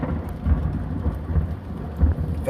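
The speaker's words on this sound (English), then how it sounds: "Listen to that thunder." Thunder from a storm in Tulsa rumbles low and continuous, swelling in slow pulses over steady rain, with no voices.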